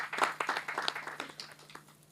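An audience applauds at an interview event for a devotional music debut, a brief, fairly quiet patter of scattered claps over a steady low hum.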